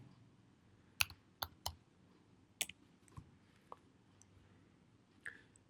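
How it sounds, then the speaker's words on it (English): A few sparse, quiet clicks of keys and a mouse button on a computer keyboard as a membership number is entered into a search box, with separated taps around a faint steady background hum. "you type it in the search box and click on view or enter"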